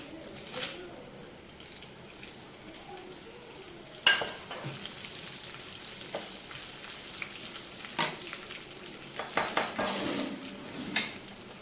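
Dried red chillies and cumin frying in hot oil in a pan, a soft steady sizzle with occasional sharp clinks and stirring scrapes of a spoon against the pan.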